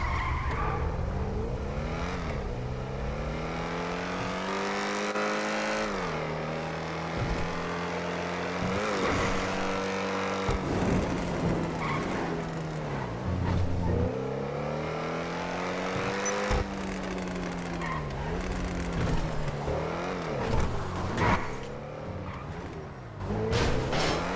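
Video game car racing along with a continuous engine whine that rises and falls through gear changes, broken up by repeated tire skids and squeals, loud and close throughout with no talking.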